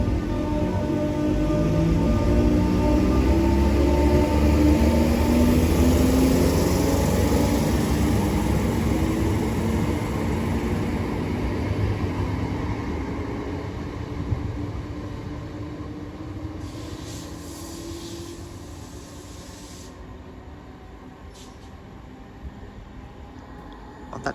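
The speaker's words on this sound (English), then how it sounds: "Train now departing is class 319 going to Liverpool Lime Street" A Class 319 electric passenger train pulls away from a station platform at St Helens Junction, heading for Liverpool Lime Street. A steady loud rumble and whine fade slowly as it departs, with a high electrical tone running throughout.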